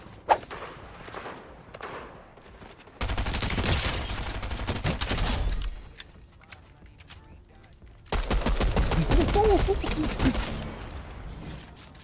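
Gunfire from a shooter video game with a burst rifle and SMGs comes in two loud, rapid automatic bursts, each lasting a few seconds. Quieter footsteps and thuds fill the gaps between them.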